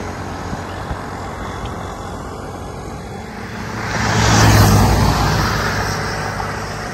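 Vehicles rush past on a highway beside a roadside stop, a steady traffic roar swelling as one passes close around the middle, loud and near, no talking.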